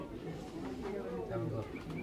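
Pigeons coo softly amid busy crowd chatter and bustle at a pigeon market, the low burbling calls repeating throughout.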